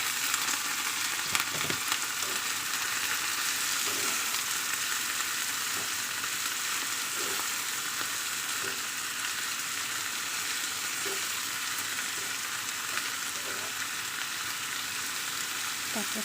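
Cabbage sautéing in a pan, a steady loud sizzle with faint stirring scrapes throughout, no voices.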